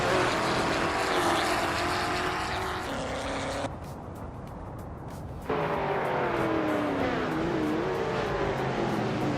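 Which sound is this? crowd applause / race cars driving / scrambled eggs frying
race cars driving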